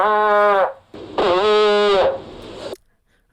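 Two long, buzzy, tonal blasts like a drawn-out fart, processed with heavy effects and a lingering reverb tail, loud and close.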